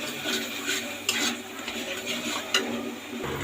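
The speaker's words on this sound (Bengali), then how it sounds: "তো মশলাটাকে ভালো মতো কষাবো।" Spoon stirring and frying masala with Kashmiri chili powder in a pan, a steady close scraping and faint sizzle with occasional metallic clinks, no talking.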